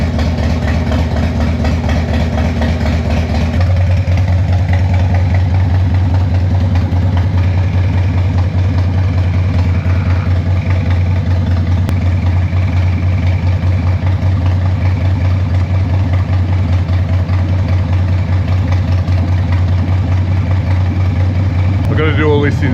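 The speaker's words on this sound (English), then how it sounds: "The bike has been idling for 15 minutes." A Harley-Davidson Evo 1340 motorcycle engine idles steadily and loudly close by, its low, lumpy throb continuous throughout, with someone talking faintly over it.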